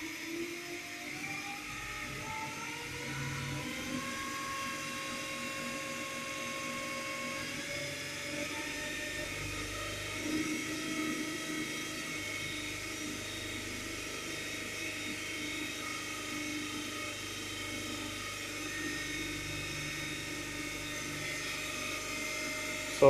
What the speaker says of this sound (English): So switch on and I'm increasing the speed of the motor to rated speed,